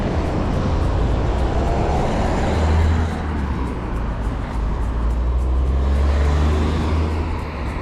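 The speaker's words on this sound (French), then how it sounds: "je préfère laisser passer les deux voitures" Two cars pass close by on a narrow road, a broad rumbling engine and tyre roar that swells and lingers steadily for several seconds, with no talking.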